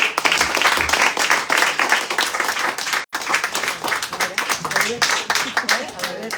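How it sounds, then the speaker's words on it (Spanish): An audience at a cultural event on a terrace claps in scattered, uneven bursts while voices talk over and between the clapping, with a brief dropout midway. "Un aplauso para ustedes"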